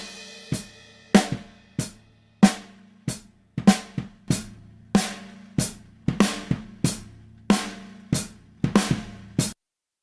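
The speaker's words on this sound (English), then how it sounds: "it's set up to bring up the tail of the snare and squash the" Drum overheads pushed through a limiter with a high-pass sidechain filter play a loose pattern of sharp, close snare and cymbal hits, about twenty strikes over ten seconds, each with a lifted, squashed tail and a low hum between hits.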